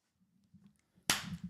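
A single sharp hand clap marks the start of a podcast recording, a sudden loud crack after a near-silent pause with some faint room noise before it.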